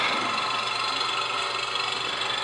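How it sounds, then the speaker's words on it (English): Lawn mower cutting grass, heard as playback of an old home recording: a steady, dense engine drone that stays constant and fairly loud throughout, with no voices. "So, it's me mowing the grass."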